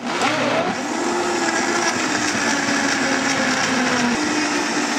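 A powerful Vitamix blender roars at high speed with a constant loud whirring drone, whipping a thick avocado shake without pause.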